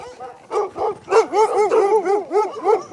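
Sled dogs in a kennel bark and yip close by in a quick, overlapping series of sharp barks, with a few whimpering tones mixed in.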